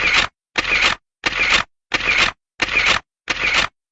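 Press photographers' camera shutters fire in six evenly spaced bursts, each a crisp mechanical rattle about half a second long, loud and close with silent gaps between them and no talking.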